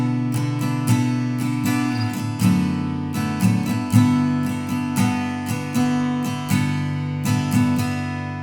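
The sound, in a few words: guitar strumming a song's verse variation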